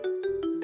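A phone ringtone plays in a Haryanvi village-drama setting, a steady electronic tone sounding in short repeated pulses, close and fairly loud with no talk over it.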